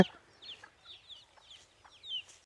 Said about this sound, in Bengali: মুরগি তার বাচ্চা কাচ্চা নিয়ে এগিয়ে যাচ্ছে